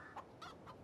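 Clucking chickens inside a henhouse in the farming video game Farming Simulator 22, three short clucks spaced evenly over a quiet, steady background hum, fairly faint and with no talking.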